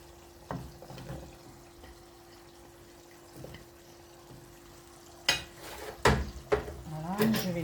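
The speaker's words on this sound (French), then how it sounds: "je viens rajouter d'abord les carottes" Carrots dropped into a simmering pot and stirred, soft bubbling under a faint hum, then clattering spoon scrapes and splashes near the end, close by.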